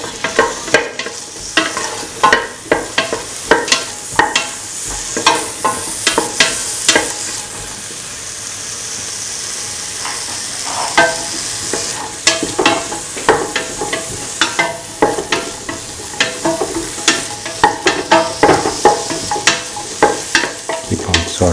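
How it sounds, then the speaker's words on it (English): Potato and ivy gourd rice sautéing in a pan, with a continuous close sizzle and frequent rhythmic clacks and scrapes from stirring throughout. "Keep on sauteing."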